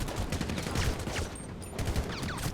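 Rapid bursts of gunfire from the video game GTA 5, a dense fusillade of shots at close range mixed with machine-gun fire, continuing steadily across the clip with no talking.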